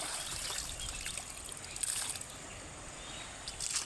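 Siruvani river water in Kerala flows and trickles steadily, a close broadband wash with small splashes throughout and no talking.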